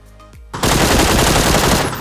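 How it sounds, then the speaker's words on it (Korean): Loud, sustained automatic gunfire from a video game training ground, a dense continuous burst starting after a brief quieter opening and running to the end, with other shots scattered around. "총소리가 굉장히 여기저기서 많이 나고 있습니다"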